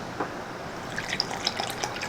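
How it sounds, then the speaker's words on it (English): Water is poured into a clear glass holding drink powder from an MRE, with a soft trickle and a few small splashy drips, close and quiet with no talking. "I'll just put a little bit in that clear glass, save the rest of it, and we'll add some water"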